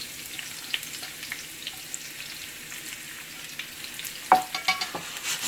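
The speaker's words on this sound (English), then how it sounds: "And then I'm going to add my onion to fry" Red onion fries in melted ghee in a pan, giving a soft, steady sizzle with occasional stirring scrapes. A louder clatter and crackle near the end sounds like more onion going in.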